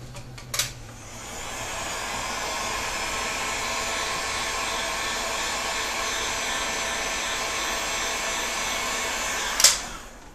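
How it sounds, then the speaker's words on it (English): A heat gun blows on a clear hot glue grip for a PVC bow, starting with a click and a steady loud whoosh that holds for about eight seconds before cutting off with another click. "One final blast with the heat gun will melt it and it'll re-adhere."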